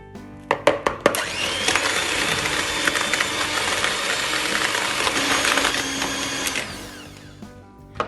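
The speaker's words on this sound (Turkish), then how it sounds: "Ve mikserliyoruz." Electric hand mixer beats butter and sugar, whirring loudly and steadily for several seconds after a few knocks, its high motor whine slowing and fading near the end.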